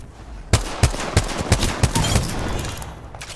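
Rapid automatic gunfire from a Spitfire light machine gun in Apex Legends, a string of sharp shots at a steady rhythm that runs into a dense, continuous burst, loud and close.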